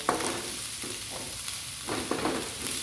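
Sambal with onions and garlic stirred in a frying pan over medium-low heat, a steady sizzle broken by several scraping spatula strokes, close and without speech.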